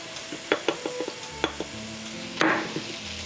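Eggplant stirred in a pot on a low-heat stove, with quiet scraping and a few sharp utensil knocks against the pot over a soft background hiss.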